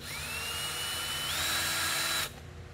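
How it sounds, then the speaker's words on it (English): A cordless drill whines loudly and steadily, its pitch rising partway through, as it backs Phillips head screws out of a roller stamp, then stops abruptly into a quiet room. "Take the screws out."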